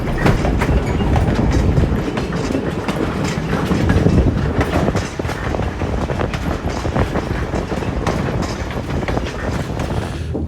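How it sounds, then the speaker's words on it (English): A train runs along the Stourbridge Line railroad near Honesdale, with loud continuous rumble and rhythmic clickety-clack of wheels on rail joints heard from on board, no voices. "today we are on a special trip on the Honesdale at the Stourbridge Line Railroad"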